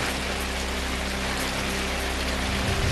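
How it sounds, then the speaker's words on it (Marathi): Heavy monsoon rain pouring down in Mumbai, a dense, steady hiss of downpour with a low hum underneath, unbroken for a few seconds and without speech. "मुंबईत मुसळधार पाऊस"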